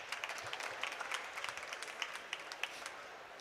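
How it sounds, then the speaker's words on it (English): Faint, scattered clapping from an audience at a COP27 awards ceremony, light and somewhat distant, with a soft murmur underneath. "Can we give her a round of applause?"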